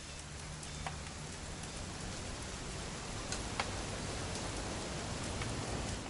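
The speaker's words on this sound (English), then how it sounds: "It's gonna rain the whole weekend, isn't it?" Steady rain falls in the video game What Remains of Edith Finch, a faint, even hiss of drops on surfaces with a few light ticks scattered through it and no voices.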